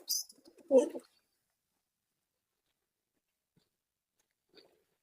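Pigeons kept in a home loft coo softly: a couple of short, close calls at the start, then near silence with one faint call near the end.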